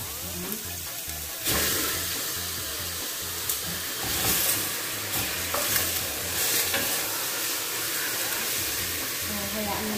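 Chicken sizzles and fries in a pan with onions for Arabic kabsa, a steady loud hiss with occasional stirring clatter, close up, with someone talking over it at times.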